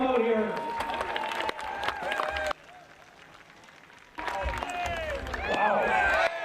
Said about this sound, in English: All right, Brad Hunter, give him a round of applause.